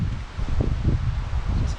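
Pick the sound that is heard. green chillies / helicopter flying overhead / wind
wind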